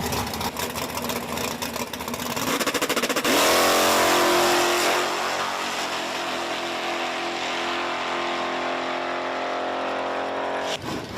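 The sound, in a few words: Ford Mustang drag racing solo run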